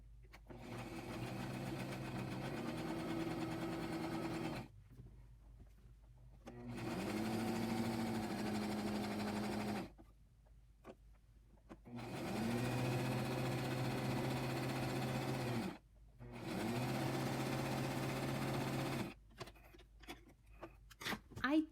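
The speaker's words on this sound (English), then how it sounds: "I am going to stay stitch with a straight stitch 3/8 inch or 10 millimeters from the edge" Sewing machine running a straight stay stitch along the edge of a dress piece, three long steady bursts of motor whirring separated by short pauses, close and fairly loud.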